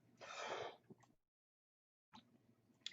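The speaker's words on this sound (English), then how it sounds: "a little cough in the throat there" A single person clears their throat with a rough cough during an evening prayer broadcast, close and fairly loud. Silence follows, then faint sounds resume.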